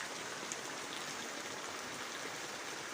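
Heavy rain falls steadily in a village, a dense, even hiss of water that holds at the same level throughout with no pauses.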